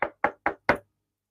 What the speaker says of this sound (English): And you hear a knock on your door.